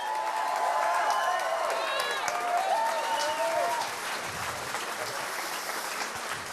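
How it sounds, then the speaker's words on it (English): Young kids clap and cheer in a crowd at a Trump rally, with dense applause and shouting voices and whistles over it, the noise easing slightly toward the end. "They're clapping about Obamacare."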